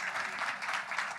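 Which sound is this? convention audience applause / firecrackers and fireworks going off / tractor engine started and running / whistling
convention audience applause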